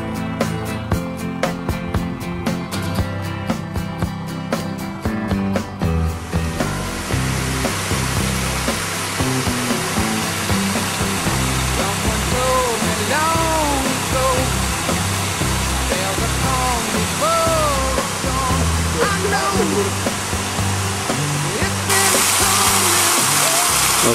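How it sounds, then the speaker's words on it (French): Hérisson waterfalls in the Jura: a steady, loud broadband rush of falling water runs through most of the stretch, overlaid by tonal, music-like sounds. "Alors ça fait partie d'un ensemble de cascades du Hérisson."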